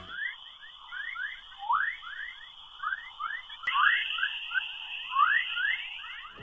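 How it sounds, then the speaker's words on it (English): A sonified sound of Earth from space gives a constant high whine under dense, repeating chirps and sweeps like birdsong, moderately faint and continuous with no voices. "The Earth expands and contracts very slightly all the time, creating this sound."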